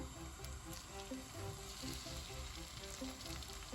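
French toast slices soaked in milk custard fry in a pan with a steady, close sizzle and crackle that holds without a break and carries no talk.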